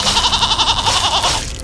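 Goats bleating in a cartoon: one loud, close, quavering bleat with a rapid pulsing wobble that lasts under two seconds and fades at the end.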